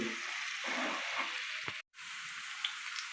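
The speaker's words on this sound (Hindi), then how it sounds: "घी हमारा गर्म हो गया। अब इसमें शामिल कर देंगे प्याज।" Onions frying in hot ghee over a low flame make a steady, close hiss and sizzle, with a brief break in the middle, and no one speaks.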